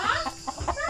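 Chicken clucking in short repeated bursts, fairly close and moderately loud, on a Philippine farm where a farmhand is spraying; no one speaks.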